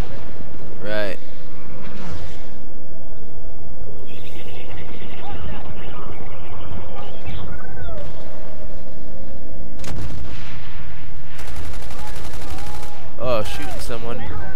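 Gunfire in the Battlefield 1943 video game, with rapid bursts and sharp shots scattered throughout, mixed with a dense game soundscape and voices talking.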